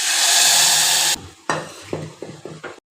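Urad dal pours into a loud sizzling tempering of cumin, chilli, garlic and turmeric, the hiss cutting off sharply, followed by several spoon stirs and scrapes against the pan.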